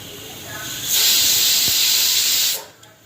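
A pressure cooker holding tomato chutney on a gas stove lets out one loud, steady whistle of escaping steam that lasts about a second and a half. It then cuts off, leaving a faint background hiss.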